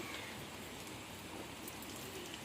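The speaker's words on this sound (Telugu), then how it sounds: "మాకైతే లైట్గా వర్షం పడుతుందండి మీ ఊళ్ళో పడుతుందా" Light rain falls steadily outdoors, a soft continuous hiss of drops with no distinct individual splashes and no talking.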